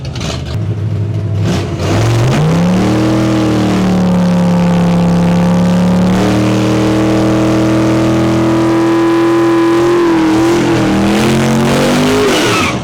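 A street car drag racing at Santa Pod launches and accelerates hard down the strip, its engine roaring loudly and rising through gear changes, close and sustained until it fades near the end.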